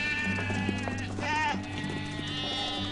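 Sheep bleat several times up close, wavering cries rising over a steady tonal hum in the background.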